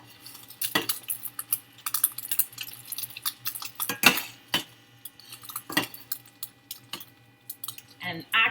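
A spatula flipping a fried egg in a pan, with sharp metallic clinks and scrapes of utensil on metal coming in irregular bursts, close and fairly loud.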